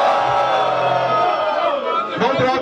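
A rap battle audience cheers and shouts for MC Johnny, a dense, loud crowd roar with whoops and voices that stays steady throughout, dipping briefly near the end before swelling again.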